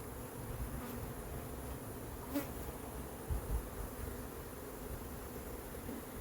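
Honey bees buzz in a dense, steady drone inside a hive during an inspection, fairly faint, with a few louder individual bees passing close now and then.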